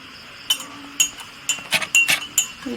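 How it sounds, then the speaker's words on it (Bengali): A utensil stirring tea in a glass strikes the sides with clear, bright clinks. There are about eight taps at uneven intervals, some in quick pairs, close and fairly loud over a quiet room. "আমি এখন নেড়ে নিব চিমটাকে"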